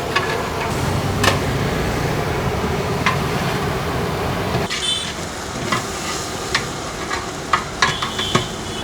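Onions fry for chicken biryani, a loud, steady sizzle with scraping stirring, then sharper intermittent clinks and scrapes of the utensil against the pan.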